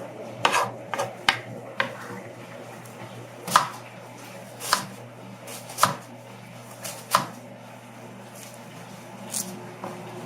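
Onions for a veal and onion dish are cut into large cubes on a board, a knife giving about a dozen sharp, irregular chops spaced through a quiet kitchen.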